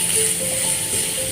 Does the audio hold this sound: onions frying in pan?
yes